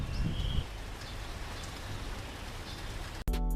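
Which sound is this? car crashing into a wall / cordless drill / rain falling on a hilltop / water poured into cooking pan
rain falling on a hilltop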